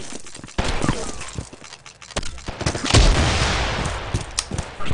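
Video-game gunfire from a saw-type machine gun comes as scattered, uneven bursts and sharp cracks, some loud and close, with a noisy wash of battle between the shots.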